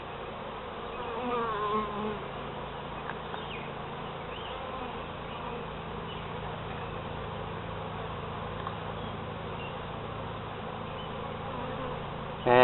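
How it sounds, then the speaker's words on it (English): A dense, steady hum of many honey bees buzzing together in an open hive during an inspection, close and continuous, with no voices over it. "where there's just bees everywhere."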